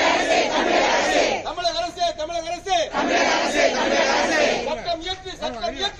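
A loud protest crowd at a rally in Krishnagiri condemning an assault on a teacher chants slogans together in rhythmic, sustained shouts, close and dense throughout.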